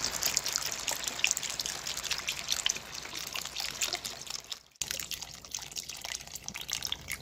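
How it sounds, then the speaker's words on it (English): Beef broth poured into a pot of chili with diced tomatoes, a faint continuous trickle and splash with a brief pause partway through. "And stir in the beef broth."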